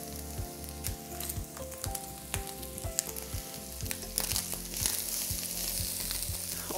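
Onions and minced meat frying together in a pan, seasoned with salt and pepper, sizzling steadily close up with a rhythmic pulse of stirring and scraping that grows louder toward the end.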